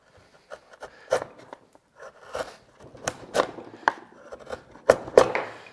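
A luthier's chisel, held bevel down, scoops excess wood from inside a guitar body in a workshop, giving quiet, intermittent scraping and cutting strokes with short pauses between them.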